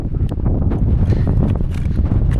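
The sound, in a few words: strong wind on a mountain ledge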